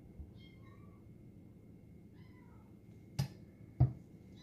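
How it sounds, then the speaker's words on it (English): A kitten gives a couple of faint, thin meows in a quiet room, followed by two sharp nearby thumps. "Little kitten at my feet, telling me it's time for a bottle."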